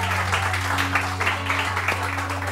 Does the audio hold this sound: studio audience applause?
yes